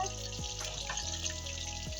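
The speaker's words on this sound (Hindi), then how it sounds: "यहाँ पे ये हमने फ्राइज डाल दिया।" French fries frying in a pan over a stove flame, a steady hissing sizzle that runs through the whole stretch with faint clinks and low background sounds.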